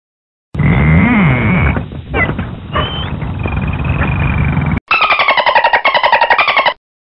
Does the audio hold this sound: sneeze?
no